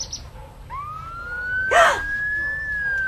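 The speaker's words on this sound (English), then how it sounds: "That was really a loud siren of a fire truck." A fire truck siren wails in a single rising tone that holds steady and loud, with a brief harsh blast of noise over it partway through, against a quiet outdoor background.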